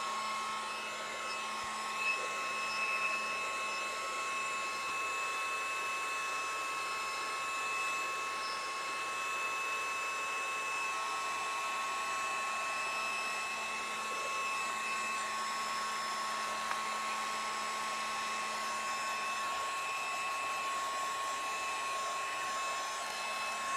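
A dryer blows in a continuous, even whir with a thin high whine while drying watercolor and gauze on Yupo paper. No one speaks over it.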